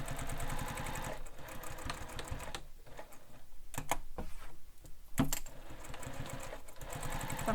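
Sewing machine backstitching a messenger bag, stitching in short bursts with pauses and brief clicks between runs, close and moderately loud, with no voices.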